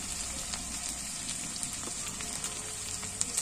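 Green chilies frying in a pan with bottle gourd and prawns, a steady close, soft hiss and sizzle of hot oil with faint scrapes as the mixture is stirred, no voices.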